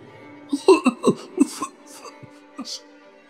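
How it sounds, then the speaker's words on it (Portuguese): A child coughs hoarsely, choking and almost hiccuping in a radio drama: a cluster of short, rough bursts, then a couple of fainter ones in a quiet room. "Quando tosse, um engasgo rouco, quase um soluço."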